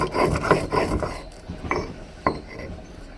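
Shrimp heads ground with garlic and chili into paste on a grinding stone, repeated rough rasping scrapes in uneven strokes, close and fairly loud, fading toward the end.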